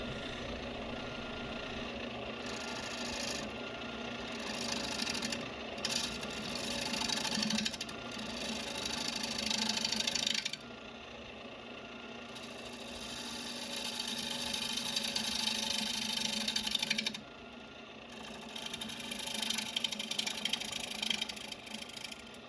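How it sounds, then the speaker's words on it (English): A gouge cuts shavings from a black walnut bowl spinning on a lathe, a steady whirring hiss broken by several brief pauses as the tool lifts and re-engages, close and fairly loud. "We're gonna make some purty shavings here."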